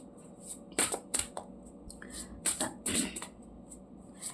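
A tarot or oracle card deck is shuffled close up, giving several quick, crisp riffling bursts with short pauses between them and a low room hum underneath.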